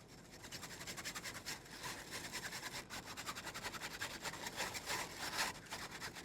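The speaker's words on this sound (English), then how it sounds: "Grab our whisk and kind of push this through a little bit." A whisk scraping and pushing butternut squash and egg flan mix through a fine mesh strainer, giving rapid rhythmic rasping strokes that carry on steadily throughout, close up, with no voices.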